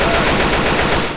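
Rapid, loud automatic AK rifle fire in the Left 4 Dead 2 video game, a dense continuous burst of shots up close with no gaps.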